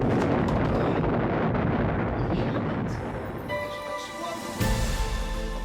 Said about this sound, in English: they heard a tremendous explosion.